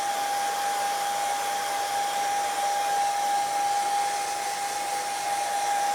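A hair dryer blows a steady, loud, close whirring roar with a fixed whine while drying a paint transfer on a 2x4 wood board, continuous and unbroken throughout, with no talking.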